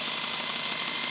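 A starter motor spins on a test bench, driven by an inverter MIG welder, giving a steady, unbroken broadband whir with a bright hissy top throughout.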